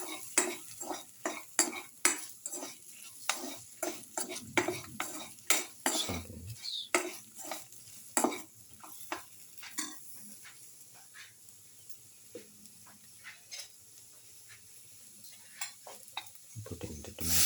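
A spoon stirs spices in a pan for an okra and tomato stew, making rapid, repeated metal clinks and scrapes over a low sizzle, busy at first and then slowing to sparser taps.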